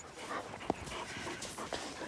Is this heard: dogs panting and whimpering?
yes